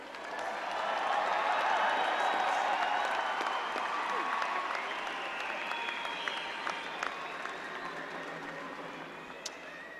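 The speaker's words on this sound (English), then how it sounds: "Let's do one more round of applause." A commencement crowd applauds the psychology graduates, a broad wash of clapping with scattered cheers that peaks early, then slowly thins and fades over ten seconds.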